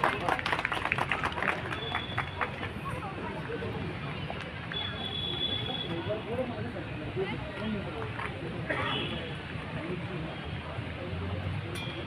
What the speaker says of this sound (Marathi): आपल्या टाळ्या त्याला प्रोत्साहन देतील.